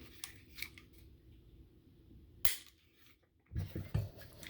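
A Ruger-57 pistol handled during an empty-chamber safety check: soft, quiet mechanical clicks and rubs, with one sharp metallic snap of the slide partway through and a short burst of handling noise at the end.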